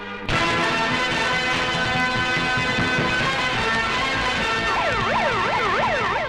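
A loud, continuous siren wails steadily, joined near the end by a second rapidly rising and falling siren tone, over a dense droning background.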